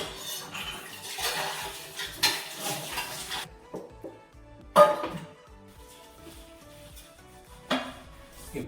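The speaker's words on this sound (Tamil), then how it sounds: "இப்போ சிக்கன் சமைச்சிட்ருக்கு." Chicken cooking in a pan in a home kitchen, with a soft sizzle, a spoon stirring and scraping against the metal, and occasional clinks of utensils.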